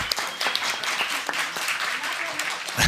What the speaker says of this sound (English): Why don't you give yourselves a round of applause for waiting around?